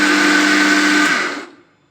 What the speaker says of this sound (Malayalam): ഇനി ഇത് നല്ലപോലെ മിക്സ് ചെയ്യാൻ അരയ്ക്കാൻ പോവാണ്.